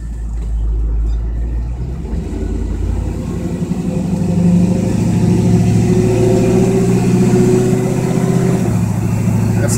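A 1978 K-10 truck engine drones steadily while driving, loud and close with a low rumble that builds slightly as it accelerates, no talking over it.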